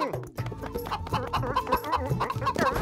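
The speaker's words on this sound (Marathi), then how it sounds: "काय मोटू, तू साधी एक कोंबडी देखील नाही पकडू शकत?" A cartoon chicken clucks in rapid, bouncy bursts, a busy run of short squawky calls with laughter-like chatter mixed in.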